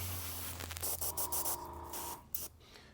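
An airbrush sprays shamrock green paint onto a Battletech miniature, giving a soft, faint hiss in several short bursts with brief pauses between them.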